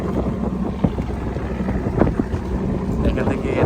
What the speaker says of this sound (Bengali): এখান থেকে একই জায়গা থেকে আপনার এই বোটগুলি ছেড়ে যাবে।